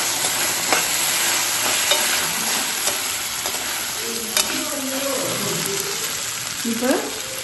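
Home-grown greens and chicken with soy sauce frying in a pan, a loud continuous sizzle with occasional scrapes of stirring close up, a faint voice briefly audible.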